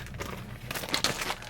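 A plastic bag holding a B5 Systems rifle stock being handled up close, giving soft crinkling and rustling with a few sharper crackles.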